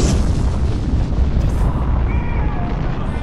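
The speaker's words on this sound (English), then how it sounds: "Where will you be when the atomic bombs fall?" Atomic bomb explosion effect in a Team Fortress 2 animated Fallout parody, a loud, continuous deep rumbling roar with heavy low-end that fills the whole stretch without letting up.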